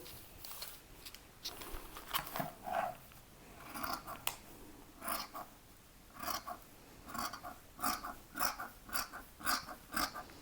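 Scissors snip through paper while cutting out a pocket lining pattern piece for a flared skirt, a run of crisp, close cuts in irregular bursts with short pauses, quiet and with no talk.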